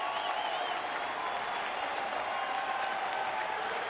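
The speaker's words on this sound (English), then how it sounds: "Here comes the crowd now with 2 strikes." A baseball stadium crowd at a Yankees–Tigers game in Detroit roars steadily with two strikes on the batter, a sustained wash of cheering that stays even in volume throughout.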